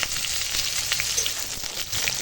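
Papaya and drumstick stalks sizzle in hot oil with onion that has already been fried, a steady, close, dense crackle and hiss with no voices.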